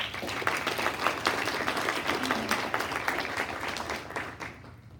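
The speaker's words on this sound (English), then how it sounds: "give them one more round of applause." Steady applause from a crowd at a regular public board meeting, dense clapping sustained throughout and tapering slightly at the end, with no talk over it.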